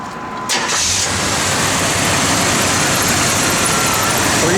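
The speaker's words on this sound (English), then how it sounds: "Give a little rev, Jordan." A 1987 Chevrolet Monte Carlo SS with its 305 HO V8 starts with a sudden burst, then settles into a loud, steady close-up rumble.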